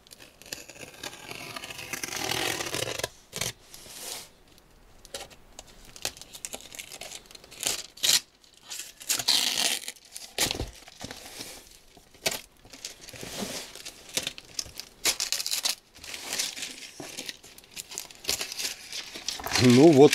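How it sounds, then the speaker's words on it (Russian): Tape is cut and torn off a parcel thoroughly wrapped in tape together with ribbons and bows, giving sharp crinkling rips and scratchy bursts separated by pauses, close up, while a voice speaks at times. "аккуратно из-под скотча это письмо извлечь"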